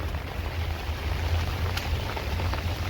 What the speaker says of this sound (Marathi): आज ना खूपच पाऊस आहे वारा पाऊस